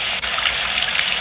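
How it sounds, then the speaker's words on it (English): A rain setting on a baby sound machine plays as a continuous, close hiss of falling water with a slight trickling texture and no voices. "rain"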